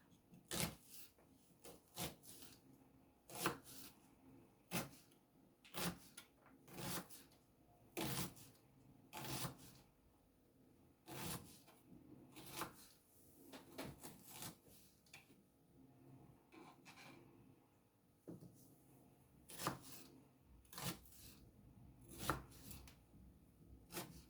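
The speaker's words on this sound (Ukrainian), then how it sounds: "А зараз я наріжу цибулю, щоб обжарити." A knife chops onion for a mushroom risotto, sounding as sharp, distinct taps on a cutting board in irregular bursts with quiet pauses between them, close and fairly faint, with no talking.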